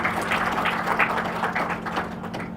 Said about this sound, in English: A round of applause for Resourceful, guys.